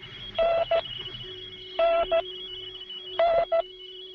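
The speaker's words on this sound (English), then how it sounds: "This is a number station right here." Shortwave number station broadcast heard over the radio, a repeating pattern of short electronic tone bursts in pairs every second or so over a steady carrier whine and faint hiss.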